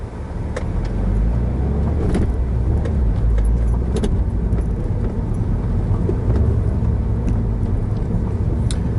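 A Mitsubishi Evo 10 rumbles from inside the cabin on a stretch of road, its engine and road noise forming a steady, loud low drone with faint clicks and no distinct revs standing out.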